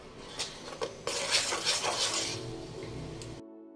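Henna paste being mixed in a bowl, a few light clinks followed by a busy run of scraping and tapping utensil strokes against the bowl, close and fairly loud, ending abruptly.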